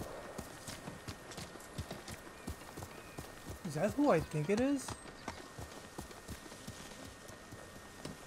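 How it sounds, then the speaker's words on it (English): Steady clip-clop of horse hooves at a walking pace in the video game Ghost of Tsushima continues throughout, while someone speaks briefly in the middle. "You're a good horse"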